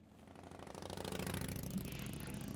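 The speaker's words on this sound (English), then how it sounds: "Why would you have a motorbike that noisy?" A noisy motorbike engine passing, a rough rattling drone that swells from faint to louder and holds steady, heard alone without speech.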